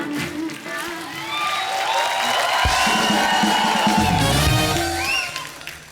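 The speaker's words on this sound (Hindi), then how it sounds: "जोरदार तालियां हो जाए।" A TV show studio audience bursts into loud applause with cheering and whoops for actress Waheeda Rehman, swelling and sustained throughout while music plays beneath.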